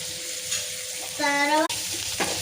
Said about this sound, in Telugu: కొద్దిగా ఆయిల్ వేసుకొని ఆనియన్స్ వేసుకోవాలి.